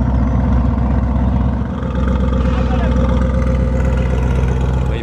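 Lamborghini Urus with a non-original aftermarket exhaust, idling loudly with a steady deep rumble close by throughout, while someone talks over it.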